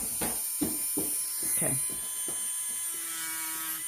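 An electric nail drill whines at high speed while acrylic nails are filed off, a thin steady tone broken by short gritty grinding bursts as the bit touches the nail. A voice speaks briefly.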